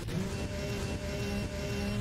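Cars driving on the road in the racing video game Need for Speed The Run: a continuous, fairly loud engine drone with a steady whining tone, sustained for the whole stretch with no talking.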